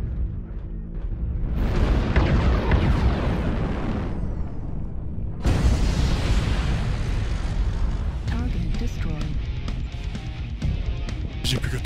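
An anti-missile system on a Nova mech firing in MechWarrior Online, heard as a dense, continuous barrage of bursts and booms that drops out briefly mid-way and then resumes, with game noise throughout.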